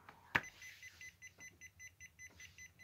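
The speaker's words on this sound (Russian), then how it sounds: "Он положил на провод, он пищит сразу." A WinAPEX touch-screen multimeter in continuity mode emits a sharp click followed by a rapid series of faint, evenly pulsed beeps, close up and quiet.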